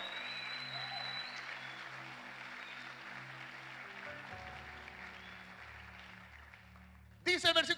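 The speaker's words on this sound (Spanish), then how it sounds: "dele un aplauso de verdad a Dios" Applause from a church congregation, a steady wash of clapping over sustained keyboard tones that thins out midway, followed by a brief loud burst of voices at the very end.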